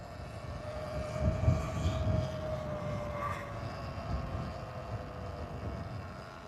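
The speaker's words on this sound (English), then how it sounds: "They had the helicopter up too." A steady engine drone of a helicopter overhead, a continuous low rumble with a faint whine, fairly distant and unbroken for several seconds.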